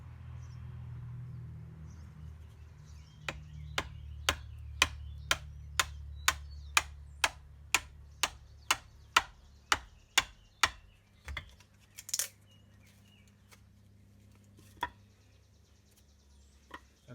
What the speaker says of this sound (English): Now the next thing I'm going to do is try to cut a wedge off of this block of wood.